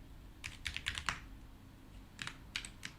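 Fingers tap on a computer keyboard in two quick bursts of clicky keystrokes separated by a short pause, close and fairly quiet, with no talking.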